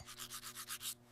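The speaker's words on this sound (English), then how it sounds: "Look, I am brushing my back teeth" A toothbrush scrubs back teeth in quick, even strokes, about seven rhythmic brushing passes close up, then stops abruptly.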